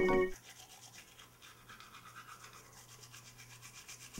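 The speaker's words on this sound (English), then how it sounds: "Now he's gonna brush his teeth, just to hear that funky toothbrush sound." A toothbrush scrubbing teeth, a faint rapid back-and-forth bristle scratching that follows a short musical tone.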